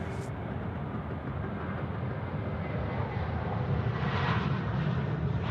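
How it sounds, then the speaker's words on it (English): A Qantas jet airliner takes off at Sydney Airport, a distant broad roar of engines building steadily and growing slightly louder, with no talk. "Just rotating now, we've got Qantas 922 off to Cairns."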